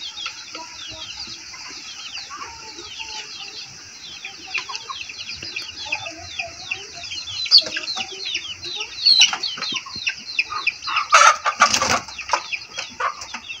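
Chickens cluck and chatter continuously behind a house, with a dense, close-up flock and a louder burst of squawking near the end.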